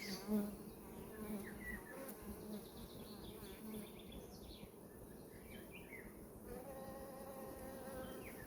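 A dense, steady hum of many honeybees buzzing up close on a hive frame, with a few faint bird chirps in the background.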